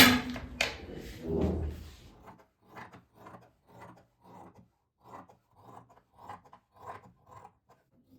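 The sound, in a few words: cutting a marked sewing pattern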